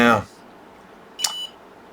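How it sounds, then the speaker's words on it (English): A soldering iron gives a short electronic beep as it goes into sleep mode on a workbench, one brief tone following a moment of talk. "That's my soldering iron beeping saying it's going to sleep."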